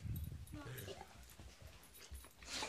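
A dog whimpers and yips softly near the microphone, small whines heard under and between people talking.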